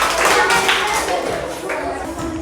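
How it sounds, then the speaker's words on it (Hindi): A classroom group applauds a student during a maths quiz: steady, dense clapping from many hands, loud and close, lasting a couple of seconds with no talk. "एक जोरदार ताली होना चाहिए"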